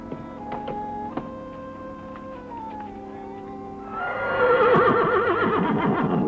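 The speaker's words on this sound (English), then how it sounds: "Oh, horses up ahead, huh?" Horse neighing as a sound effect in a 1951 Western radio drama, a long wavering whinny rising loud and close over a quieter musical background.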